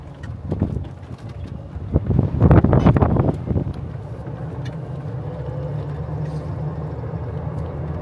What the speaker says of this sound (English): Wind is just awful.